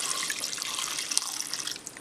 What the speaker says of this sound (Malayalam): ഇനി നമുക്ക് ചേമ്പിലേക്ക് ഇത് വേകാൻ ആവശ്യത്തിനുള്ള വെള്ളം ഒഴിച്ചു കൊടുക്കാം